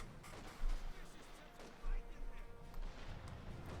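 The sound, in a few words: artillery fire in Company of Heroes 2 video game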